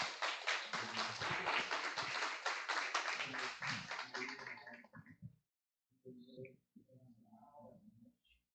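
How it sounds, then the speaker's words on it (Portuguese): A church congregation at a live worship service claps for a deacon, dense steady applause for about five seconds that cuts off abruptly, followed by quieter voices. "Aplauda o Senhor pela vida do Diácono Fernando"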